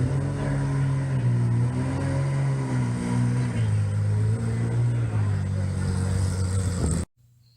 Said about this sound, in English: this is a Porsche that, I think it had just come off the dyno or something, and I just loved how it sounded